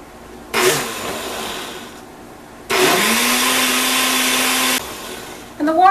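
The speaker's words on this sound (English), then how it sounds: "we're just going to put these in the blender" A kitchen blender whirs in two loud bursts as it purées dried cayenne peppers with water for a garden bug spray, with quieter pauses between runs and a brief voice at the end.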